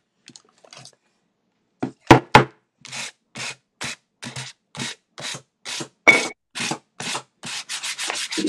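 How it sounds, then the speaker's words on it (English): Decoupaged home decor being sanded by hand: a close series of about a dozen steady, evenly spaced rubbing strokes that grow more regular after a few faint scrapes at the start, with no talking. "The sanding technique would work great for these too."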